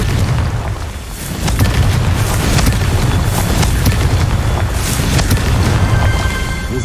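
A Confringo blasting spell explodes in a video game, a loud, sustained roar of booming, rumbling blasts that runs continuously for about seven seconds with no voices.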